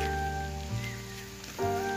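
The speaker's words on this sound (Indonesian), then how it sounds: "Sekarang udah lumayan deres gerimis teman-teman." Heavy drizzle falling steadily outdoors by a forest hut, a broad continuous hiss with a steady tonal hum running underneath it; no one speaks.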